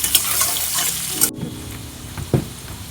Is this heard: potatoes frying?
yes